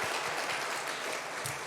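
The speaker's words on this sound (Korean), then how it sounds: "우리 하나님께 영광의 박수 한번 올려드립시다." A church congregation applauds during a Sunday worship service, a brief, dense wash of clapping from many hands that fills the room.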